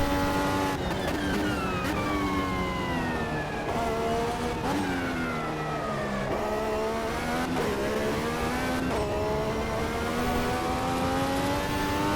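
An Indy car mod engine in Automobilista 2 revs hard and continuously, the pitch climbing and dropping through quick gear shifts over a lap, loud and close with no talk.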